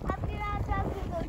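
Wind gusts across a microphone outdoors, a low rough buffeting rumble lasting a second or so, with faint voices mixed in.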